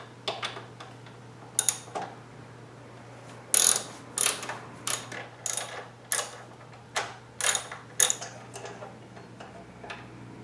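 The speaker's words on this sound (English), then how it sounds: "I'm going to use a 4mm hex key to remove them." A 4mm hex key loosens the screws on a motorcycle chin spoiler, giving a run of sharp metallic clicks in irregular bursts, close and alone against a low steady hum.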